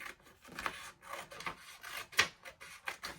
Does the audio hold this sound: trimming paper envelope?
yes